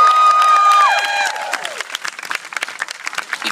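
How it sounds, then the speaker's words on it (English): Audience applause for Melinda Cook at a National Kidney Foundation walk event in San Jose, loud and dense clapping that thins into scattered claps, with tonal music fading out underneath at the start. "So big applause for Melinda Cook."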